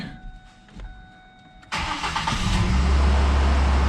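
A 2005 Ford Ranger 2.3 engine cranks and fires up after a quiet stretch, then settles into a loud, steady idle with a deep low rumble that continues to the end.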